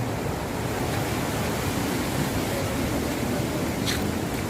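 Rough sea waves crash and churn in a continuous loud roar, with the surf noise filling the whole scene and no voices.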